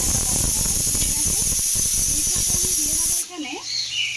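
Chopped tomato frying in a hot pan, a loud steady sizzle and hiss throughout that drops away sharply near the end, leaving faint kitchen noise.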